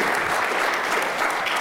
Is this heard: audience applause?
yes